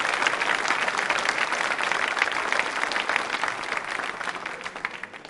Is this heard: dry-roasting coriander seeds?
no